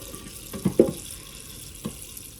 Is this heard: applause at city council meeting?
no